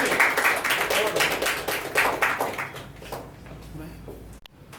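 Audience clapping at a question-and-answer session, a burst of hand claps that fades out after a few seconds, with some talk mixed in.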